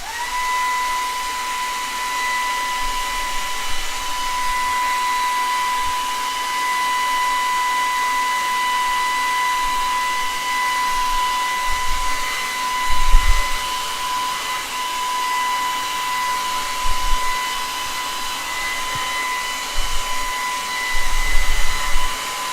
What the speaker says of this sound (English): I'm gonna use my hair dryer for a second.